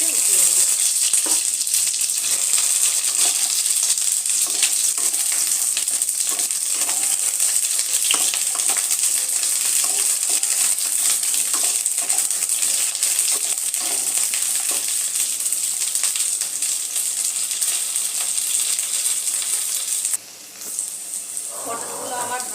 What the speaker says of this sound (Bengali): হালকা করে পটলগুলো ভেজে উঠিয়ে নেব।